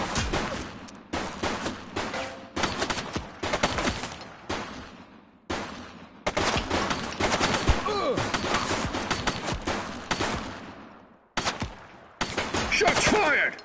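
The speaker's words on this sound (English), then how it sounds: "Shots fired!" Rapid bursts of police and suspect gunfire in the video game The Precinct, dense near-continuous volleys broken by brief pauses, loud and close, with voices calling out between shots.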